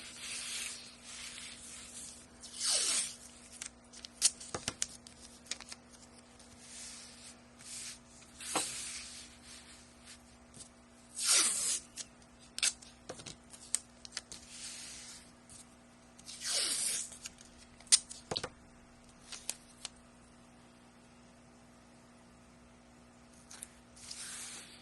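Tape is pulled off a roll and pressed down onto paper to keep it from buckling under paint. Several long, rasping zips come at irregular intervals, with small rubs and crackles between them, heard up close over a low steady hum.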